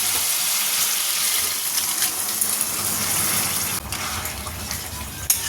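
Lentil dal poured into a hot pan already seasoned with turmeric and cumin powder, giving a steady close gushing, sizzling wash of liquid that runs for several seconds, with no voices.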